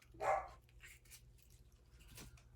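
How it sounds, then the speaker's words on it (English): A single muffled dog bark sounds from a distance, quiet and dull as if through walls, from a dog upstairs, followed by faint indistinct noises. "if you hear that lovely barking up above, that is one of my dogs"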